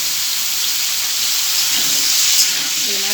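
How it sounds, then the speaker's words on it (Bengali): Potatoes and pumpkin frying together in a pan hiss with a steady, loud broadband sizzle, with faint kitchen noise briefly under it toward the end. "আলু কুমড়ো একসঙ্গে ভেজে নেব"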